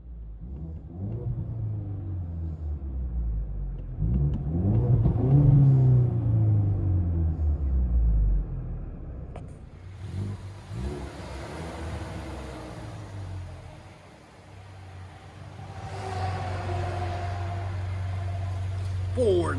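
A 2018 Ford Mustang EcoBoost four-cylinder turbo with dual exhaust and deleted muffler, heard from inside the cabin: a loud rising rev and falling rumble, then a steady droning idle with faint talk.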